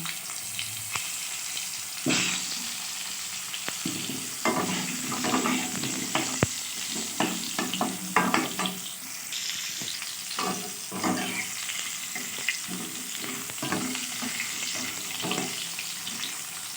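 Potatoes frying in hot mustard oil with black cumin seeds, a steady broadband sizzle with scattered crackles and pops, spatula scrapes and stirring knocks rising over it at a moderate, close level; no talking.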